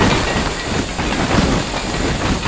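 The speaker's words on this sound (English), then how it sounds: "That is what's clacking because the bearings are pulling off" Rapid, continuous clacking and rattling from a Scrap Mechanic video game vehicle whose bearings are stretching and pulling apart, loud and steady over a grinding hiss throughout.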